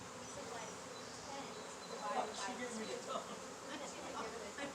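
A swarm of honey bees buzzing densely and continuously at close range during a swarm catch, with faint voices in the background.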